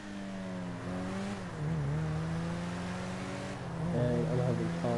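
A car engine drives and revs in GTA Online, its harmonic hum steady and close, then rising in pitch toward the end as it accelerates.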